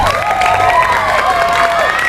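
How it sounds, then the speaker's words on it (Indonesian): An audience at a public speaking practice session cheering and clapping, a loud dense wash of crowd noise with shouts and rising voices throughout. "Tepuk tangan dong buat mereka."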